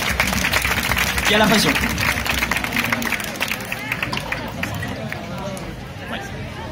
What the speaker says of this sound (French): je vous demande un tonnerre d'applaudissements pour Mathieu